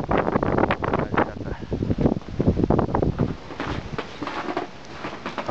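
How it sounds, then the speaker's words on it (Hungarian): Gusty, very cold wind at minus 13 degrees buffets and roars across the microphone in uneven surges, loud and close, easing slightly toward the end. "Így fúj a szél."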